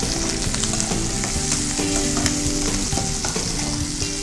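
Green chillies and curry leaves fry in a pan of hot oil, giving a loud, dense, continuous sizzle with crackling and stirring throughout, close and unbroken, with no voices.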